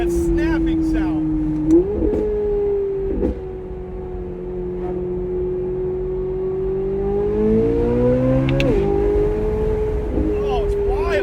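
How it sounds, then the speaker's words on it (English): A C8 Corvette Z06 fitted with Concept 841 headers pulls hard from inside the cabin, its engine drone rising through the gears with sharp exhaust snaps at each shift, loud and continuous while someone talks over it. "Listen to the way this thing pulls. It like snaps when you shift."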